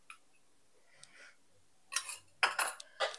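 Metal spoon scraping and clinking in a pan while stirring besan and ghee for Diwali besan laddoos, several short bursts of scraping in the second half, close and fairly quiet with no talk.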